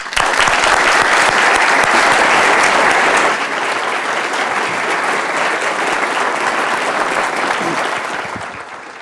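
A lecture hall audience claps steadily to welcome Dr. James Bullard as George S. Eccles Distinguished Lecturer, dense applause from many hands that is loud at first, eases slightly, then tapers off toward the end.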